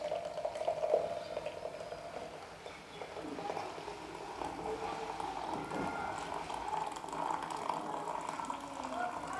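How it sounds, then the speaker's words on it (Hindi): Masala chai poured from a pan into a mug through a strainer, a steady close liquid stream running without a break across the whole clip. "ये अब चाय मैं डालूँगी इस मग में"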